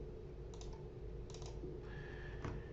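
Soft clicking of a computer keyboard as code is typed, a few short bursts of keystrokes spread across a few seconds, faint and close under a low steady room hum.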